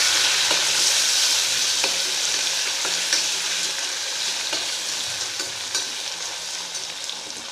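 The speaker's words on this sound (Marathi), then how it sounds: "तर हे मिक्स करून आपल्याला व्यवस्थित एकजीव करायचं आहे" Ginger garlic paste sizzles in a hot pan while a spoon stirs it, giving a steady bright frying hiss with light repeated scraping taps and no talk.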